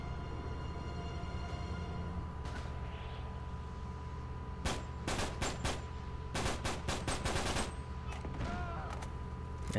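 Enemy gunfire in the Uncharted 3 video game, Chapter 20 caravan level: bursts of rapid shots crackle over a steady background hum, loudest in the second half, with clusters of several sharp reports in quick succession.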